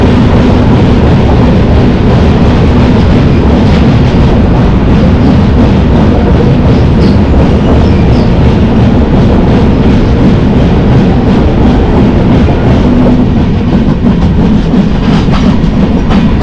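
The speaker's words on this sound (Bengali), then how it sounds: "আমাদের ট্রেন ঢুকবে আরেকটি টানেলের মধ্যে।" Kanchankanya Express passing through a hill tunnel, a very loud, continuous roar of wheels and rattling carriages echoing throughout, with no voices.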